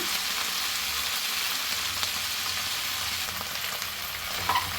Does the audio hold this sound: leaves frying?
yes